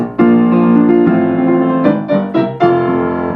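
Loud piano chords pounded quickly and unevenly, the strikes rushing into one another with a blurred, hurried feel.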